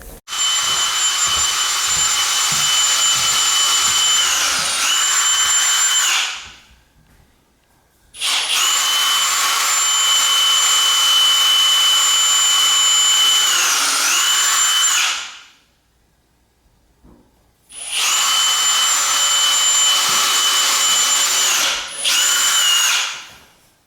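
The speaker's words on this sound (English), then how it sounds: "putting some screws in" A power drill drives screws in three long, loud whining runs, each several seconds, with brief pauses between and a short stop near the end.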